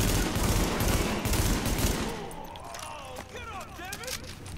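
Dense gunfire rattles in The Division during a police station fight in New York, rapid bursts of shots loud for about two seconds before thinning out beneath speech.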